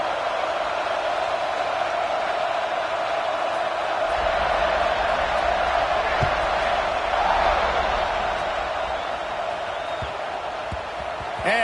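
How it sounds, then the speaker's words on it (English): Dense steady roar of a stadium crowd at a Texas versus Texas A&M football game, loud and continuous throughout with a few thumps, under a commentator's voice. "this crowd is feeling themselves after that last drive"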